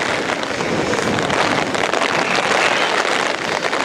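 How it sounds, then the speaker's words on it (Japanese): Strong wind roars across an outdoor festival site by the sea in Yokosuka during stormy weather, a loud, continuous buffeting rush with the rattle of rain or spray and no pauses. "うわ風がめちゃくちゃ強いですね"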